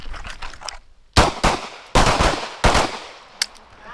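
Gunshots at a shooting competition range, several sharp, loud reports in an uneven series, with quieter shots between them and no talking.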